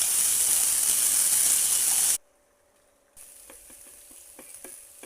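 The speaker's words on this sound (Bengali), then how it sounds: "রসুন বাটাটা এখন পেঁয়াজের সাথে ভালো করে নেড়ে মিক্স করে নেব।" Browned onions with garlic paste frying in a pan, a loud, bright sizzle that cuts off abruptly, then returns quieter with scraping stir strokes and light clicks.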